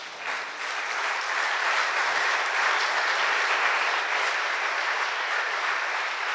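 Church congregation applauding, a broad, sustained wash of clapping that swells quickly and holds steady, loud and close, with no talk over it.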